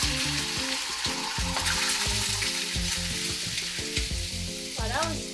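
Eggs crackle and sizzle loudly in a tablespoon of hot oil while being stirred for fried rice made with leftovers, with a steady close frying hiss and clattering utensil scrapes throughout.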